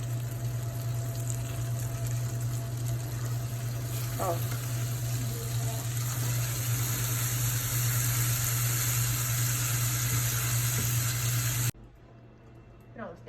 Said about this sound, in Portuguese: Você vai ver que vai começar a borbulhar.